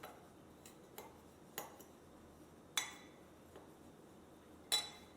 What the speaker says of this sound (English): You're going to mix together the cinnamon and sugar